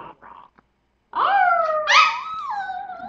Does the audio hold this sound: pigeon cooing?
no